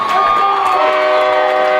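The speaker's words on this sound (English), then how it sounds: "And this homecoming crowd is on fire." A homecoming crowd at a high school football game cheers loudly and steadily, a dense roar of voices filling the whole moment.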